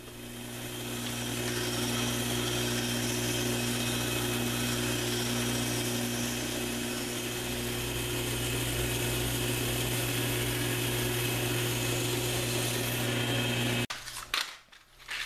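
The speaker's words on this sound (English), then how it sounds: "Before I finish shaping at the sander" A power sander shaping small wooden pieces for an ice cream pint lock runs at a steady loud whine for about fourteen seconds, then cuts off with a few brief handling clatters.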